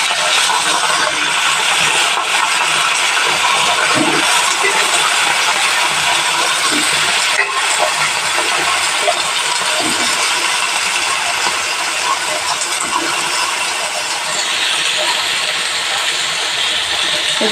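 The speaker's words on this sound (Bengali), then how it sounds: "তেলটা আমার চলে এসেছে, এবারে আমি সবজিটা দিয়ে দেবো, কুমড়ো, বেগুন," Pumpkin, eggplant, potato and radish drop into hot oil for a mixed vegetable dish, setting off a loud, steady broadband sizzle and hiss that runs the whole time with small clatters in the pan.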